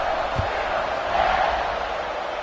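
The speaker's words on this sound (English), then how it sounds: "this crowd is buzzing after that last score" A stadium crowd in College Football 26 keeps up a steady, loud, dense roar and murmur for the whole stretch, with no distinct cheers or talk standing out.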